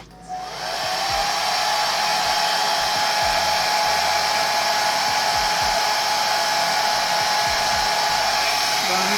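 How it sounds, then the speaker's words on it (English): A blow dryer on its cool setting, used while installing a curly lace wig, roars steadily and loudly from start to finish after a quick spin-up, close by, with a few faint low bumps underneath and no speech. "I get my blow dryer and I put that on a cool heat"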